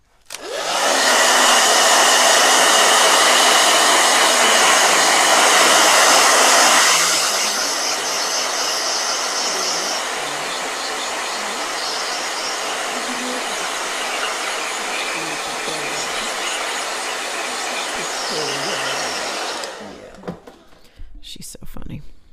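A blow dryer runs loudly in a steady broadband roar, easing to a lower setting after several seconds and continuing until it cuts off, with faint voices under it.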